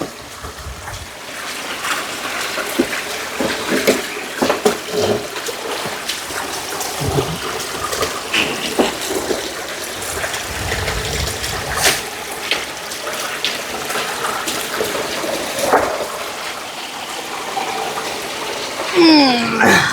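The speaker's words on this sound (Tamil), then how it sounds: "நிறைய ஃபுல்லாக தண்ணி பிடி." Water runs and splashes steadily into a tank, a continuous broadband gush with occasional gurgles, fairly close, outdoors.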